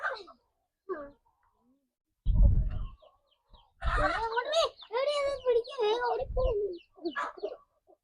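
A farm hen with her chicks giving soft, low clucks and brief chirps nearby, with continuous talking over most of the stretch.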